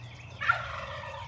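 A turkey at a coop gobbles once, a rattling burst of calls standing out over steady low background hum.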